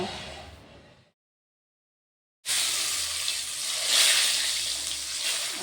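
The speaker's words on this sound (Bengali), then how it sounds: "তারপরে আমি এটাকে তেলে ভালো করে ভেজে নেব" Eggplant pieces coated in salt and turmeric fry in oil, producing a loud, hissing sizzle that breaks off into silence, then returns as a strong, steady crackle.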